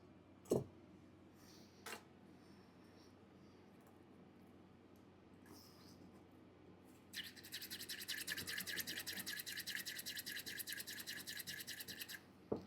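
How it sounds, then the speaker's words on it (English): Pipe cleaners scrubbed back and forth through the stem of a 1953 Dunhill pipe during restoration, a close, quiet, rhythmic scratching that starts after a few faint knocks and runs steadily to the end. "we'll run a few more pipe cleaners through that."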